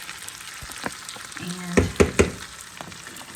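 Dry macaroni is tipped into a pot of boiling water, giving a soft rushing bubble and a few sharp clinks and rattles near the middle, under a faint background hiss.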